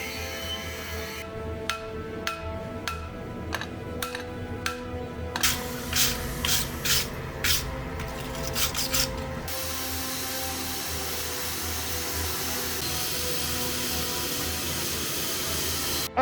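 A forged hatchet head, modelled on the Icerind Hatchet from Elden Ring, being ground and shaped. A series of short, rhythmic abrasive strokes gives way to a long, continuous grinding hiss, steady and close, with no talking.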